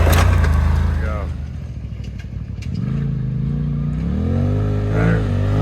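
A 2022 Polaris RZR Turbo R side-by-side engine revs loudly and up close, pitch dipping then climbing as the throttle opens during a break-in ride, with clattering chassis noise underneath.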